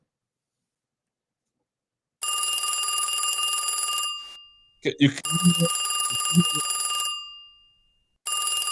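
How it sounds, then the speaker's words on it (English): A telephone rings in bursts of bright electronic trilling, loud and close, with pauses between rings and someone speaking in one gap before the ringing resumes. "Can you hear this ringing, everybody?"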